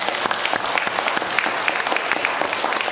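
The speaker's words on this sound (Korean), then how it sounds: "하나님께 감사의 박수를 올려드리십시다" A church congregation at a Sunday service bursts into loud, sustained applause of thanks, many hands clapping densely and continuously throughout, with no talking over it.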